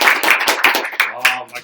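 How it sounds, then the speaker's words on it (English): A live audience at a Real Madrid fan Q&A in Chicago claps in a short burst, a ragged patter of hand claps with voices mixed in. "Round of applause for Drew."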